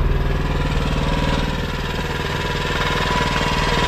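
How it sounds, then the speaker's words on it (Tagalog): A generator engine runs steadily at night near a boat on a strong river current, a loud, continuous low throb with an even pulsing rhythm that holds throughout. "Kaninang alauna pa lang, nagpandar na kami ng generator."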